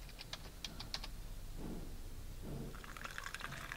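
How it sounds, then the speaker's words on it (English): Pesticide poured in the horror adventure game The Cat Lady: two soft liquid pours in the middle, surrounded by clicky keyboard-like tapping and game sound effects. "Pour the pesticide"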